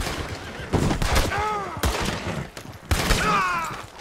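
Gunfire from a gunfight in Red Dead Redemption II, several loud close shots in quick bursts with ringing tails, and brief voices between them.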